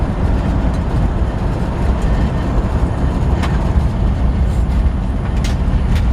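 Cab interior of a 1947 Ford truck driving, less rattly than before: a steady low engine and road rumble with occasional light knocks and clicks, continuous and close.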